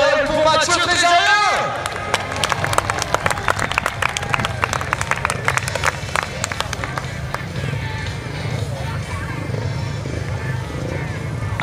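At a longtrack motorcycle racing final in La Réole, a crowd applauds and cheers a rider, a dense spray of claps with a motorcycle engine revving and dropping away at the start, and talk running over it.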